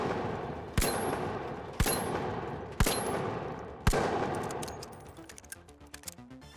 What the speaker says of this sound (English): Next is the Revolver 357, a powerful Magnum-style revolver that requires precise aim but really packs a punch